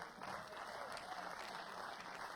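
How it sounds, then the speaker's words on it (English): A crowd at a professional men's tennis match applauds, giving a faint, distant, even patter of clapping that runs steadily for a couple of seconds. "And continue the applause for Ted Watts, umpire today."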